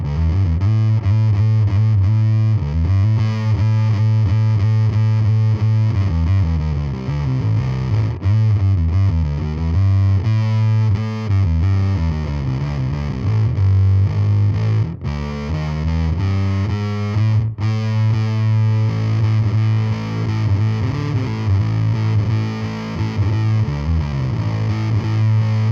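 Warm Audio Foxy Tone Box octave fuzz pedal with the tone control turned down, giving a loud, thick, buzzing fuzz tone over a steady riff that runs the whole time with no talking.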